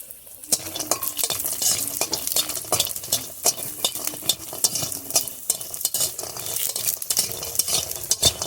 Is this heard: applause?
no